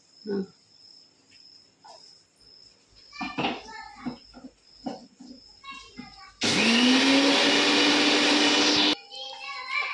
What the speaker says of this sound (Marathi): फक्त तांदूळ बारीक करायचं